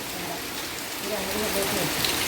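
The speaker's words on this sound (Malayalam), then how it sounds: "മഴയാണ്" Steady monsoon rain patters down on surfaces at a Kerala family home in a continuous hiss, with faint voices murmuring underneath.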